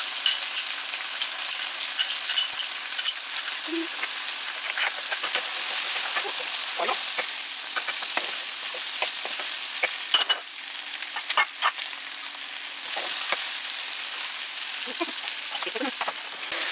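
Peppers, onions, ginger and garlic sizzle in a pan for a Jamaican brown-stewed chicken. A steady, dense hiss runs throughout, broken by occasional clicks and scrapes of stirring, with no voices.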